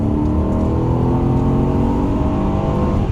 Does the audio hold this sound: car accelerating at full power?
yes